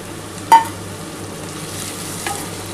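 Ivy gourd frying with onion, garlic, mustard and green chilli in a pan, a steady close sizzle with a sharp clink of a utensil near the start and a softer scrape later.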